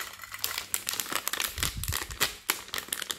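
Crinkly plastic packaging being torn and crumpled open by hand to reach a small badge inside, a dense run of close crackles and rustles with no talking.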